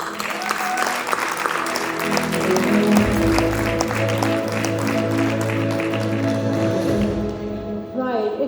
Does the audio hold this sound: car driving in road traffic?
no